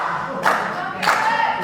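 Wrestling crowd in the UKW arena in Batley cheering and chanting in rhythmic bursts about every half second, loud and close.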